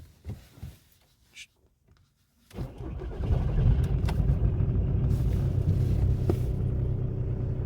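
A diesel car with a 2.0 TDI BMN engine, just back from a glow plug repair, cranks briefly and catches, then settles into a steady loud rumbling idle close by.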